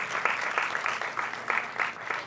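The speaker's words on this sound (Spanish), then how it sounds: "aplauso a Marta" Moderate applause for a guest at a film production masterclass, a small audience clapping with audible individual claps, somewhat distant and steady across the moment.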